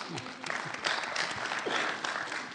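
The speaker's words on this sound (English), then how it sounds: "we can clap to Racing Post" Conference attendees clap for Racing Post guests, a fairly quiet, slightly uneven round of applause with some voices murmuring underneath.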